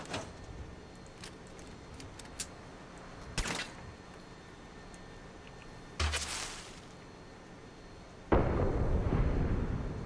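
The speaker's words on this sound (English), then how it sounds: "Now what that does is shoots a firework that clears the weather" Firework shot that clears the weather in the video game Fallout 4: a few isolated whooshing bursts and pops, then a louder sustained roaring blast near the end, over quiet ambience.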